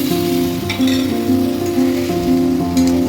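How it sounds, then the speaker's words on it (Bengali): Chicken stew sizzles loudly in a hot pan while being stirred, a steady close crackling frying sound with soft scraping of the spoon, no talk. "দিয়ে ভালো করে নাড়তে থাকবো।"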